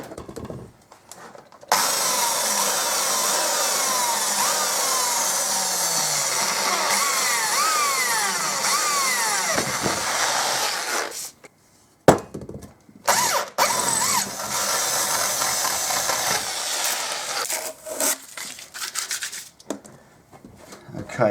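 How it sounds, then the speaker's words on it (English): A drill bores a hole through a Harley Davidson factory exhaust baffle, a steady grinding whir running for several seconds, stopping, then resuming in shorter bursts, with faint talk between. "Okay, one hole drilled."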